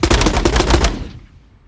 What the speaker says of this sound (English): Getting a crazy amount of delay to the shot